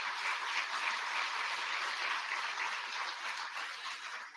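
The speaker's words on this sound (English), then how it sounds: "please give every single member of the IBM community here a round of applause" Applause for the IBM community at the IBM Research Africa lab's tenth anniversary event, Catholic University of East Africa: a steady wash of hand clapping from an audience, fairly quiet and even throughout, with no voices over it.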